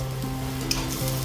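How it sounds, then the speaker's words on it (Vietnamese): Chopped scallions sizzle in caramelized sugar in a pan over low heat while chopsticks stir them, giving a steady close crackling hiss with faint scraping. "Để lửa nhỏ, dùng đũa đảo hành."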